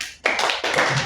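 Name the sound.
applause, students clapping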